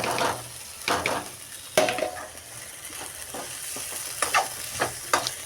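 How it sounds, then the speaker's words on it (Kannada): Sliced okra sizzling and frying in a pan with chili powder over a low gas flame, with a steady hiss and several sharp stirring scrapes and clatters of the spoon, close up and without speech. "ಈ ಬೆಂಡೆಕಾಯಿ ಹಾಕ್ಕೊಂಡ್ಬಿಡ್ತೀನಿ ರೀ"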